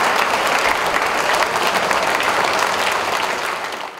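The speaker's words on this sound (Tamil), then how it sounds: "ஒரு பெரிய உற்சாகமான கரகோஷம்" An audience at a televised Tamil debate show breaks into loud, sustained applause, a thick uniform clatter of many hands that stays full before tapering off in the last half second.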